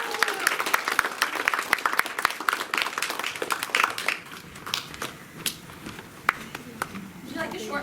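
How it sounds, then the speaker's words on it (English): Audience applause for a speaker at a Sunday summit gathering, dense clapping for about four seconds that thins to scattered claps and taps, with voices murmuring through it. "Let's give her a round of applause."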